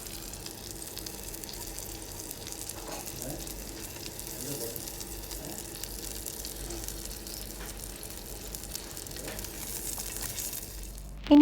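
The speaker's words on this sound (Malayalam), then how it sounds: "ഇതൊരു മീഡിയം ടു ലോ ഫ്ലെയിമിൽ വെച്ച് സാവധാനത്തിൽ കുക്ക് ചെയ്തെടുക്കുക." A pita burger patty fries slowly in a pan over a medium-low flame, giving a soft, steady sizzle that runs evenly throughout, close but quiet, with no one talking.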